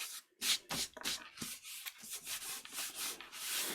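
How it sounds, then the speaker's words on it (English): Rapid back-and-forth rubbing of a finger over paper or card to lift a glue mark while making a wild flower folio journal, close and soft, in quick repeated strokes with brief pauses. "fortunately it rubs off with friction"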